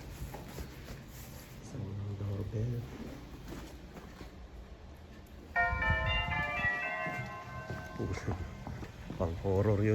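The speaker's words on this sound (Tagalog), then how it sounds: "Pang horror yung doorbell niya" A multi-tone electronic doorbell chime rings for several seconds in the middle, with people talking before and after it.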